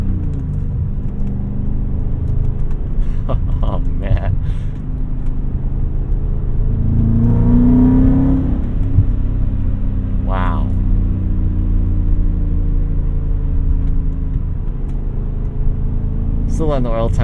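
A 2001 BMW E39 M5 motorsport engine runs at idle while warming up, a steady deep rumble with a few brief rev changes throughout, heard from inside the car under someone talking.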